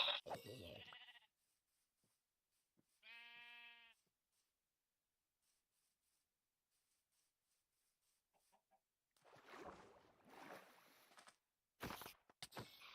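A horned sheep in a Minecraft-style video game gives one short harmonic bleat, heard alone against silence between bursts of other game noise.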